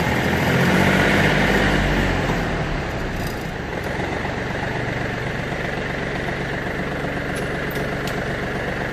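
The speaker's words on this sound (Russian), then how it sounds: "Трактор бегает даже хорошо" A Yanmar FF205D 20 hp tractor diesel engine runs steadily at idle, a continuous low rumbling drone, close by and fairly loud throughout, with no voices.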